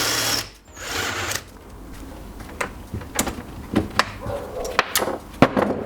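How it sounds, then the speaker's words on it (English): A power drill drills out rivets in a home shed, its motor whirring in uneven bursts with sharp clicks and knocks between runs, fairly close and with no talk. "Then we can drill the other side."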